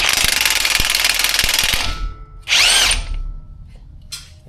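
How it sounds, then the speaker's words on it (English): A big impact wrench on a 17 mm nut of a Suzuki XL motorcycle shock absorber rattles loudly for about two seconds, then fires a second short whirring burst and a brief third spin, close and alone. "So I'm going to get my big impact in here."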